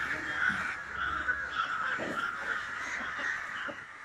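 Many crows caw together in a noisy, overlapping chorus, the harsh calls repeating steadily at moderate distance with faint background sounds.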